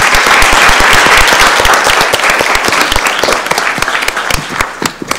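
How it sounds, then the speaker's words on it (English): A room of attendees at a county commission meeting breaks into a full round of applause, dense overlapping claps at close range that gradually thin out and taper toward the end. "give a good round of applause to Stephanie Hall"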